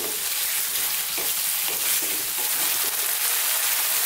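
Onions for a Kerala-style beef curry fry over medium heat, a loud dense continuous sizzle with occasional soft scrapes of stirring, close up and without any talk.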